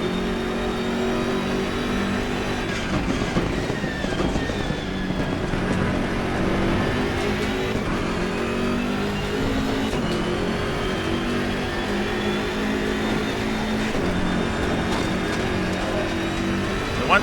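A BMW M6 GT3 race car in Assetto Corsa Competizione at Mount Panorama, its engine snarling and rising through revs with turbo whoosh, continuous and close over the whole stretch, with shifts and throttle lifts along the way.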